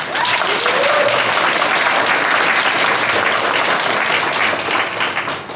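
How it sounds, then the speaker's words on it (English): A large audience at a Transformers voice actor panel at a Texas comic convention claps steadily and loudly, a dense continuous roar of hands that fades slightly at the end. "Can we give a round of applause, please?"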